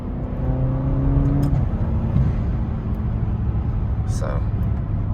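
An Alfa Romeo Giulia engine idles steadily nearby, a low continuous rumble with faint hum and no pauses; the engine sometimes stops.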